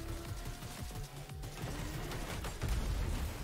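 Fortnite gunfire rattles in rapid bursts over a dense mix of in-game sound effects and music, loud and busy throughout the scene.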